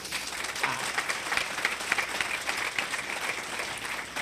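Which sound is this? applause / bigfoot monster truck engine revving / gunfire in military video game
applause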